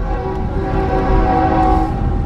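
A train rolls past a quiet rural East Texas town, a steady loud rumble with sustained tonal horn-like drones throughout, close by and with no talking.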